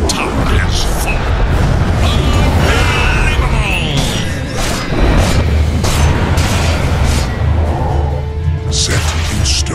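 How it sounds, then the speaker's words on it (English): Explosions and booms from a tower being destroyed in the video game Dota 2, loud and dense, with repeated bursts and crashing impacts under game sounds across the whole stretch. "Radiant's bottom tower has fallen."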